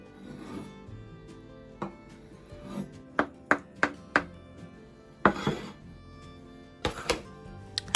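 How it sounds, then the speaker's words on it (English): A carrot is sliced and cut with a knife on a board, giving a string of sharp, close chopping knocks that come in short irregular bursts with pauses between. "Alright, carrot, slice and cut."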